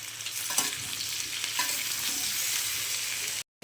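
Steamed mixed vegetables frying in oil with salt, turmeric, cumin powder and sugar, a dense continuous sizzle with scraping stirs from a spatula, close and steady, ending abruptly.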